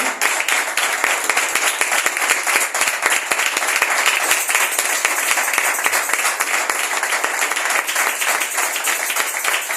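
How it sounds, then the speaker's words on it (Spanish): A church congregation claps steadily and loudly, a dense wash of applause filling the room for the whole stretch. "dale fuerte las palmas al Señor, iglesia"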